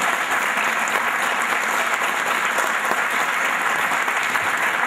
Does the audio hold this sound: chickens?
no